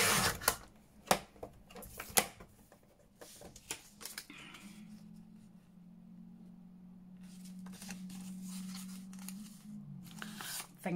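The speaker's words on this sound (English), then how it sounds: "So I'm going to cut some strips" Scissors snip through vellum strips for handmade envelopes in a series of sharp, close cuts, followed by a sustained low mechanical hum and a few more quick snips at the end.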